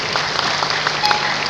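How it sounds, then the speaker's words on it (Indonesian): Audience clapping at a live comedy event, a short burst of steady, fairly close applause from the crowd. "Boleh tepuk tangan?"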